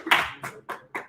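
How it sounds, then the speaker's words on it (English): A small audience clapping for a presenting team at a course pitch event, four separate short bursts of claps with gaps between, fairly close and not sustained. "So give them a round of applause."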